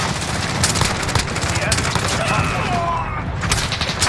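A Beefeater light machine gun fires in sustained bursts during a Call of Duty: Modern Warfare hardpoint match, loud dense rattling gunfire mixed with other battlefield shots and explosions, with a voice talking over it.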